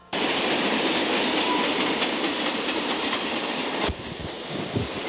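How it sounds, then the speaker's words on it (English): A westbound train rumbles past steadily with a broad roar and faint clattering, then the noise drops off abruptly near the end. "I hear a train coming."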